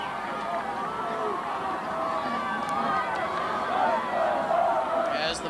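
A Bombers crowd at a 1997 college football game roars and begins a rhythmic chant, a dense, continuous wall of many voices swelling gradually, heard from the stands at broadcast distance.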